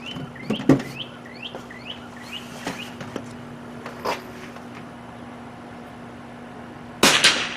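A single sharp rifle shot rings out near the end from a rifle fitted with a Feyachi 1.5-5 magnifier and reflex sight combo, fired at 25 yards while sighting in outdoors; before it, birds chirp repeatedly and a few faint clicks sound.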